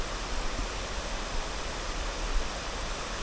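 Waterfall at Bulusan, Sorsogon, a steady broadband rush of falling water, even and continuous with no voices over it.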